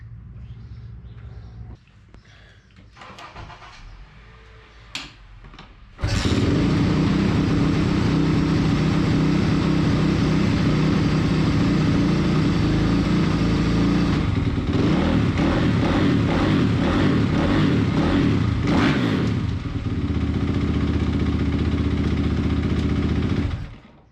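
A rebuilt Kawasaki KX450 dirt bike with a new piston, new clutch and fresh oil fires up after some clatter, then roars loud and close, with throttle blips before cutting off.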